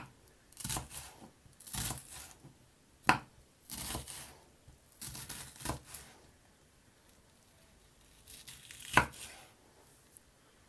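An onion is chopped with a knife on a board for a Jamaican curry chicken foot dish, scattered crisp cuts arriving singly and in short bursts with quiet gaps between, close but soft, no voices.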